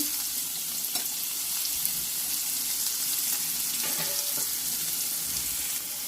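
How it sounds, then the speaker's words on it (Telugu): Onions frying in hot oil for a gongura meal maker curry, a continuous close sizzle with faint clinks and scrapes, no talking. "నేను ఆయిల్ హీట్ ఎక్కనిచ్చి ఉల్లిపాయలు వేసుకుందాము. ఫస్ట్ ఉల్లిపాయలు వేసేస్తున్నానండి."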